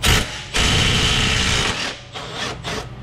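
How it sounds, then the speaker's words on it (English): A 90 degree impact wrench with a 17 mm socket works a bolt loose on a 2016 Ford Focus 2.0, giving loud sustained buzzing bursts with short pauses between them, close up. "Let's get my 90 degree impact in a 17."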